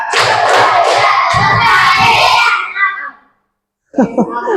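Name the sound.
children clapping in a counted rhythm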